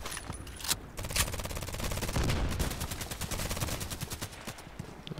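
Rapid bursts of HK USP pistol fire in the Contract Wars shooter game, sharp cracks in quick succession forming dense volleys, loud and close, with short gaps between runs of shots.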